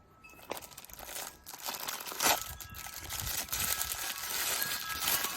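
Flexible aluminum foil dryer vent ducting handled up close, with a run of crinkling and crunching rustles, some sharp crackles and a steadier crumpling texture toward the end.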